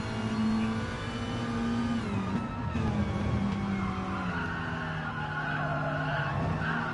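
Race car in a sim-racing league event sliding sideways, tires squealing in sustained tonal howls over a steady engine drone, loud and close throughout with no talk.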